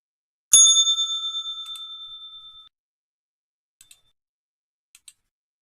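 A single bright bell strike for a stock market opening rings out clearly and decays over about two seconds, followed by a few faint, quick ticks in near silence.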